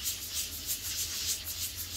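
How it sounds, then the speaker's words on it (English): Medium grit sandpaper rubs over a yellowed plastic deck umbrella in quick, even back-and-forth strokes, a soft close scratchy hiss with regular pulses. "you're taking your medium grit and you are kind of like sanding all the"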